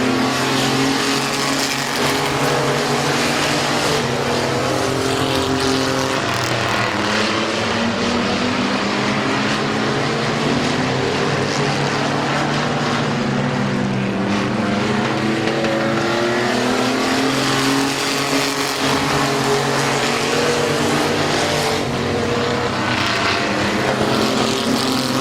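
Stock cars racing at Midvale Speedway, a loud continuous roar of several engines sweeping past with rising and falling pitch through the whole stretch, nearby and unbroken.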